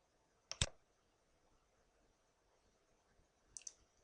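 Mouse clicks on a computer, a quick double click near the start and another pair about three seconds later, close and crisp over near silence.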